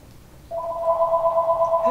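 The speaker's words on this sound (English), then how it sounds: "Hey, the phone." A telephone rings with a steady electronic warbling tone that starts about half a second in and continues unbroken and fairly loud, with no voices over it.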